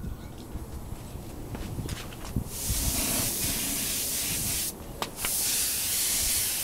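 Spray paint hisses onto a Honda NS250R motorcycle part during restoration paintwork, in a steady close burst with a short break before a second long pass.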